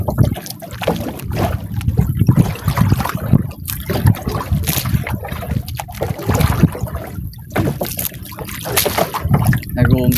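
Water sloshes and slaps against a small fishing boat on growing waves, an uneven churning close by with gusts of wind, while someone talks over it.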